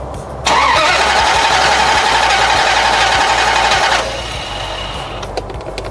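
A 2001 Dodge Ram 2500 turning over with the key on and the truck in gear, giving a loud, steady starter-and-engine churn for about three and a half seconds before it drops to a quieter idle-like hum, with no talk.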